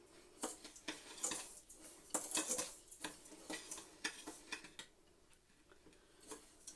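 A spoon scrapes and clinks against a pot as sugar and agar are stirred together for syrup, a quiet run of irregular metallic taps and scrapes.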